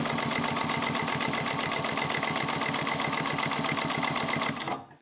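Juki 1541 triple feed industrial walking-foot sewing machine stitching heavy thread at full speed, a loud, rapid, even mechanical clatter that runs steadily, then slows and stops at the end.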